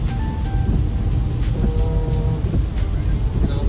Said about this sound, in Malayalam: അപ്പോഴത്തേക്കാണ് നല്ല മഴ തുടങ്ങി